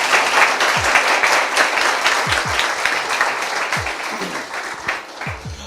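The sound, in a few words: congregation clapping loudly for Jesus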